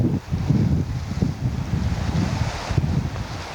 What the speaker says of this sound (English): A bit of wind.